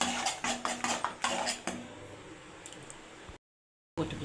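Ground masala sautéing in a pan for butter chicken: a series of clinking, scraping spoon-against-pan knocks in an uneven rhythm, then a quieter faint sizzle, a brief silence and a final clatter.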